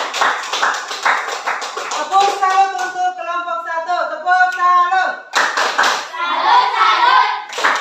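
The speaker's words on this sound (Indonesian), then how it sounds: "Tepuk tangan untuk kelompok satu" Rhythmic group clapping in a classroom as pupils applaud a presenting group, with patterned claps and some chanting voices, then a short pause before a second burst of claps.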